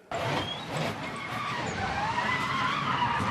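A racing car's tyres skid and screech in one long, loud continuous slide during a qualifying lap after a brake failure, starting abruptly out of near silence.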